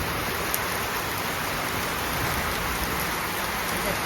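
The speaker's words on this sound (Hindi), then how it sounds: "देखो बहुत जोर वर्षा पूरा" Heavy rain pours steadily outside a house in Brajrajnagar, Jharsuguda district, producing a dense, constant hiss of drops with no pauses.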